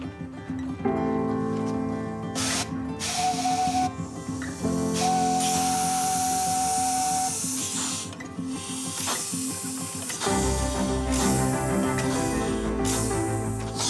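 A steam locomotive hisses and vents steam in long, loud, broadband blasts over a rumbling, droning engine, with a brief high whistle-like tone partway through and a deep low roar near the end.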